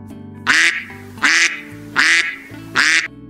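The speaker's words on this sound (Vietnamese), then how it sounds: "Đây là con vịt." Four loud, evenly spaced duck quacks ring out one after another over a quiet background.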